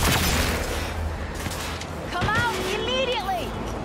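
Gunfire in Cyberpunk 2077 against a gang, with loud cracks and booming bursts at the start and middle, mixed with whooshing game effects and shifting electronic tones.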